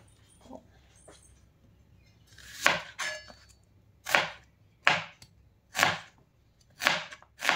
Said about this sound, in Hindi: हम तब तक अनियन काट लेते हैं